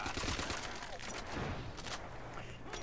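Video game gunfire from Call of Duty: World at War zombies mode pours into a group of zombies as a continuous, loud volley of rapid shots with crackling impacts layered together.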